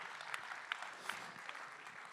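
Applause from an audience at a rugby club inclusion award ceremony, a steady low-level patter of many hands with a few sharper claps, heard at a distance and fairly faint.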